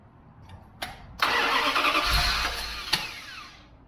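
Dodge 318 V8 cranks and fires for the first time in ten years, a short burst of starter whir catching into a rough, loud running roar, close by with a sharp knock near the end.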